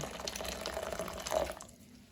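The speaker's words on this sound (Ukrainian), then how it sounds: "наливаю в мірний стаканчик 240 мл води" 240 ml of water pours steadily into a measuring cup, splashing and gurgling for about a second and a half before stopping.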